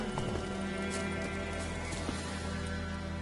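Roach, a horse in The Witcher 3, gallops with steady rapid hoof clip-clops over a constant game backdrop, with a brief whinny-like bit and no talking.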